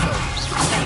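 A Confringo blasting spell striking its target in Hogwarts Legacy, one short, loud, crashing impact burst.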